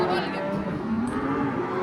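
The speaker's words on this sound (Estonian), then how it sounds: "Nii et me nüüd ootame siin lehmade keskel." Cows mooing inside a barn, a continuous low bellowing chorus filling the space at close range, steady and loud throughout.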